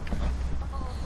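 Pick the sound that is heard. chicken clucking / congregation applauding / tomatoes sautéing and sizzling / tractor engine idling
chicken clucking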